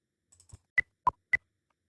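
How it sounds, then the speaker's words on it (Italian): A computer mouse is double-clicked during a pattern-drafting software session, with close, crisp clicks and a faint tap or two beforehand. The room is otherwise quiet. "con il mouse faccio un doppio clic esattamente sulla linea"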